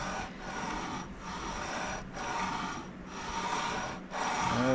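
A guitar's frets are sanded with 320 grit paper taped to an aluminium block, giving steady rasping back-and-forth strokes in about five even passes, close and fairly loud, with no talking.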